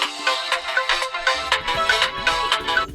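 A bright, melodic ringtone on an Infinix Hot 11S phone plays a repeating chiming pattern, close and clear, with a bass line joining partway through.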